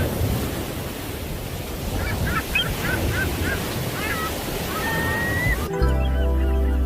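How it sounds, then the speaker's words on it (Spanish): Ocean surf on a beach rolls in a steady broad wash while geese honk faintly in the distance, then the scene abruptly gives way to a low electronic tone. "Olas que vienen, olas del mar."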